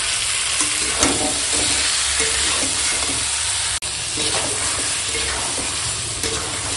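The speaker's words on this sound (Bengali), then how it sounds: "দেখো এখনো মাংসটা কষাচ্ছি।" Goat meat is being stir-fried, kosha style, in a pan: a continuous loud sizzle with repeated scraping and stirring strokes of the spatula close up, and no voices.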